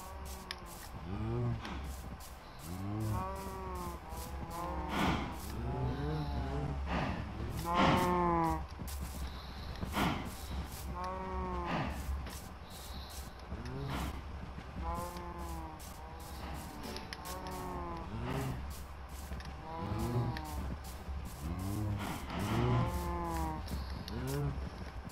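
Cows mooing in the video game Minecraft, with repeated low, drawn-out lowing calls overlapping one another all the way through, fairly loud and steady, with a player's voice occasionally talking alongside.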